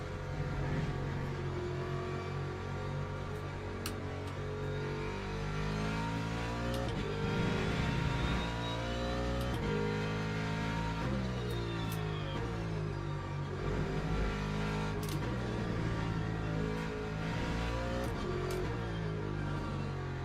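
The Ferrari race car engine in Le Mans Ultimate drones steadily for about twenty seconds, its pitch climbing and dropping through gear changes and braking, moderately loud and alone.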